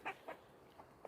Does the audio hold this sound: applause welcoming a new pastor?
no